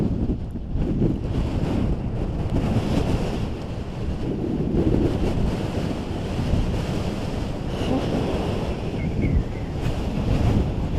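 Strong, steady wind batters the microphone at Pugless Hill Lookout, a South Australian hilltop, as a loud, unbroken rushing roar that lasts the whole stretch without easing.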